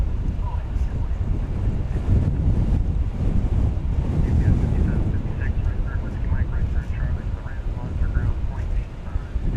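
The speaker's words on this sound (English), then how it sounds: "we've got just this powerful wind" Powerful wind buffeting a microphone beside a runway at DFW Airport, a loud continuous roaring rumble with gusty swells, while someone talks over it.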